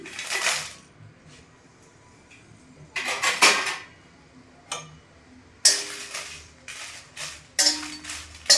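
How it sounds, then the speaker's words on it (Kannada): Oil and dry red chillies go into a pan on the stove, giving a series of short metallic clinks and taps from a spoon against the pan, scattered across several seconds with quiet gaps between them. "ಈಗ ಒಂದು ಸ್ಪೂನ್ ಎಣ್ಣೆ ಹಾಕ್ತಾಯಿದ್ದೀನಿ ಒಣಮೆಣಸಿನ್ಕಾಯಿ ಹಾಕ್ತಾಯಿದ್ದೀನಿ"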